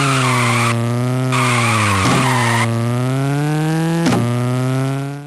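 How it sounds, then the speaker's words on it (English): Loud, sustained tire squeal in the Need for Speed Underground GBA video game: a harsh, tonal, slightly wavering screech with brief breaks and brake shrieks, alone without speech. "All the cars in this game use the exact same engine, brake, and tire sounds."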